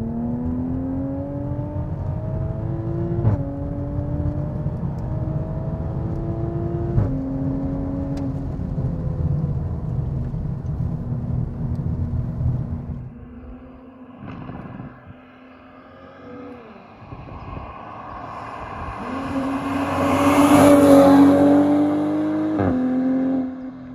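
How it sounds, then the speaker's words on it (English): A Toyota Supra engine drones steadily at low revs while the car cruises slowly in sixth gear toward a corner, a smooth near hum with slight pitch shifts, then a louder swell as it picks up again near the end. "I just want to let you hear what this engine sounds like."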